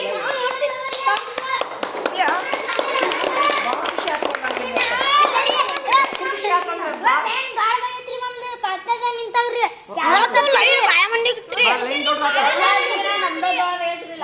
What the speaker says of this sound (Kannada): ನಾ ಚಪ್ಪಾಳೆ ಹೊಡಿತೀನಿ